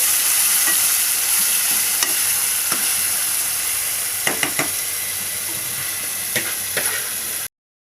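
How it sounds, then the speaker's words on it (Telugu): Chicken curry being stirred in a hot pan over a steady sizzle and steam hiss, with occasional spoon scrapes against the pan, close and continuous, no talking. "వేసేసిన తర్వాత ఇలా అంతా కలిపేసుకోవాలి."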